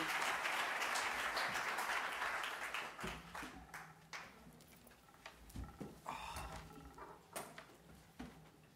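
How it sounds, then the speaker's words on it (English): An audience at a tech inclusion event applauds as panelists take their seats: dense, full clapping for about three seconds, then thinning into scattered, fading claps. "Can we get a round of applause as these guys take their seats?"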